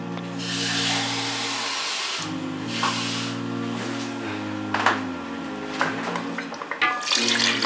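Water splashes and pours in uneven bursts into a pot of fried chickpeas, close by, over quiet background music.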